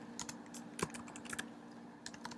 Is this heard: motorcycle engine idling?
no